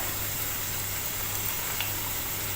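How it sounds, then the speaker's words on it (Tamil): Ginger ribbon paniyaram dough frying in hot oil, a steady dense sizzle that holds evenly throughout with a faint low hum beneath and no talking. "எண்ணெய் சூடாயிடுச்சு। நம்ம செஞ்சு வச்சிருக்கிற இஞ்சி கொத்து பணியாரத்தை இதில் சேர்க்குறேன்"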